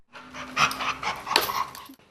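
A Labrador drug-sniffing dog pants close to the mic in quick, rhythmic huffs with small snuffles and a faint whimpering tone, heard alone with no talking.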